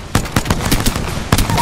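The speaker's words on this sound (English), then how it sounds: "Here comes the old knuckle cluster" Fuse's knuckle cluster launcher firing in Apex Legends: a quick string of sharp, loud bursting pops, several in rapid succession with a final blast after a brief pause.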